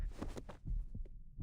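A pounding heartbeat effect in a horror video game, close and deep, thumping in quick doubled beats over a faint hum.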